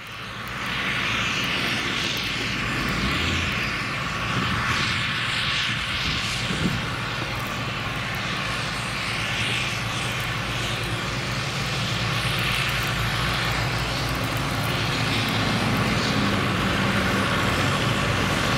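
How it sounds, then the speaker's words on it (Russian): Two tractors clearing snow from a street in Poltava during a heavy snowfall, giving a steady, loud engine drone and grinding rumble that runs continuously throughout. "Вот идут два трактора."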